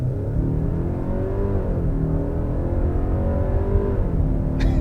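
A 2022 Genesis G80's 2.5-litre turbocharged engine revs steadily upward under hard acceleration, loud and continuous from inside the cabin, with rising tonal whine.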